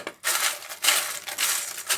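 Caramel-coated popcorn is stirred in a pan, giving loud, close bursts of dry crunching and rattling in three or four surges.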